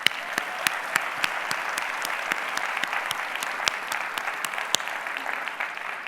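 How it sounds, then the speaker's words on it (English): A conference audience at a general session applauds in a steady, close wash of many hands, with sharper individual claps standing out throughout. "Please give yourselves a round of applause."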